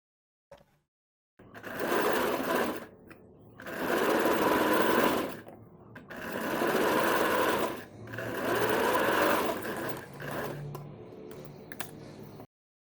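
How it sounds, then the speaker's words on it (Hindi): A sewing machine stitching a strip around a kurti neckline, whirring steadily in several long bursts of a few seconds each with short pauses between, close and loud, with no talking. "इस पट्टी के ऊपर इस हिस्से में एक सिलाई और लगाएंगे पूरे गले में"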